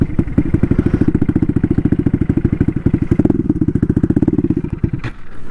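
A turbocharged Honda Grom with a swapped-in CBR engine revs hard and close by, its rapid pulsing exhaust loud and steady throughout, easing briefly near the end.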